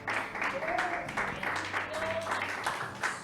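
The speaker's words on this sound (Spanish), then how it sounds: "denle un aplauso al pastor que estaba de cumpleaños" Church congregation applauds their pastor Jorge on his birthday, a steady wash of clapping through the whole stretch, with voices and a brief whistle-like tone over it.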